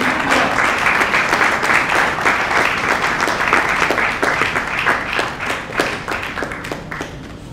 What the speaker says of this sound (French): Nous invitons monsieur l'ambassadeur William Mukambila, pour qui je demande d'applaudir très fort ce gouvernement.